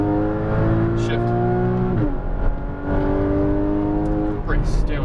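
Porsche Cayman GTS engine on a track, a steady multi-harmonic drone that drops in pitch at a gear shift and then climbs again under light throttle, close and loud, with a driving instructor talking over it.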